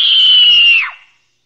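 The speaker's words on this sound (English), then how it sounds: "Moles and shrews pick up with a series of shrieks so high-pitched that we can't hear them" A mole or shrew's high-pitched mating shriek: a single loud, thin whistle-like squeal held steady for under a second before sliding down and cutting off.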